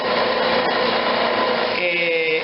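Sandpaper rubbed along a turned wooden piece spinning on a lathe, a steady broadband scratching hiss with the motor's hum beneath, continuous and close, shifting slightly in tone near the end.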